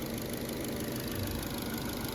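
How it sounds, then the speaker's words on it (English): A 1.8-litre engine in a 2010–2015 Chevy Cruze idles just after an alternator replacement, a steady, even mechanical hum heard at low level from close by, with no talking over it. "Engine's actually running a lot smoother"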